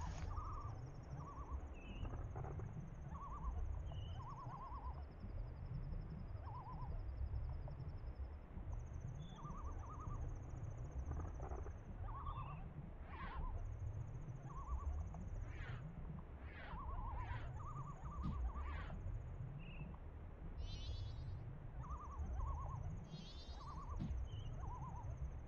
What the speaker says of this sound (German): Vor allem, dass man unter Wasser diese Eulen hören kann.